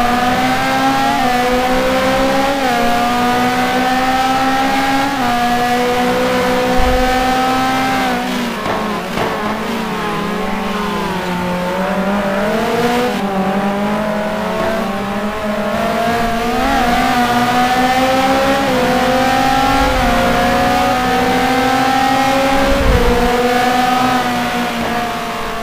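Race cars battling on track at Magny-Cours during the Race of Champions, engines loud and close throughout, revving up and down through gear changes with pitch sweeps as cars pass, with brief tire squeal.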